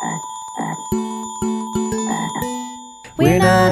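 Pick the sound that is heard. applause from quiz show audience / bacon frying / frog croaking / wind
frog croaking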